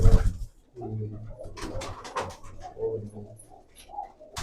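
Low, soft cooing of pigeons runs steadily through the clip, with some rustling and scattered higher calls around it.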